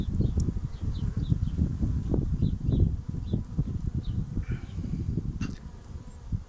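Anatolian honeybees buzz in an open hive while young bees emerge from capped brood, a dense close hum with fluttering swells and a few faint higher chirps above it.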